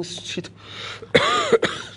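A few harsh coughs burst out in quick succession over a faint background hum, close to the listener.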